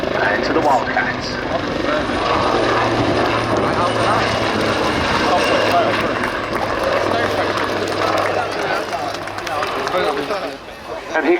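Fleet Air Arm Wildcat helicopters make a final display pass with a big waggle at the Cosford airshow, a loud, sustained rotor and engine roar holding steady across the whole stretch while a commentator talks over it.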